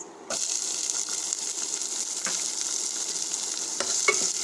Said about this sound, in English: Now add onions